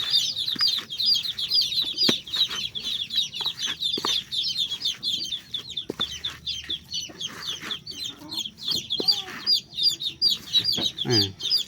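Several free-range desi chicks and chickens cluck and chirp continuously close by, with occasional sharper calls and faint rustling beneath.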